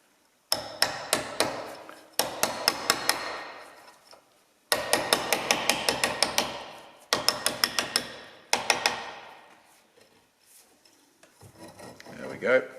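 A steering box seal cup on a Volvo Amazon car is tapped home with a copper washer and hammer, several bursts of rapid close metallic taps separated by short pauses, with scraping between them.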